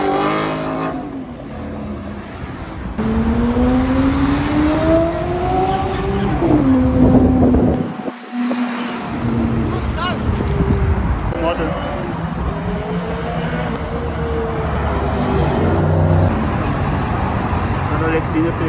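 A sports car with a manual gearbox drives on São Paulo streets, its engine revving up through gears with rising pitch sweeps and shifts, loud and close amid traffic noise, with someone talking over it.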